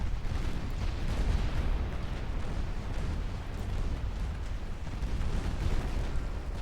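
Six-inch naval guns fire in Ultimate Admiral Dreadnoughts, a sea battle game, with a continuous dense rumble of overlapping booms that stays loud and sustained throughout.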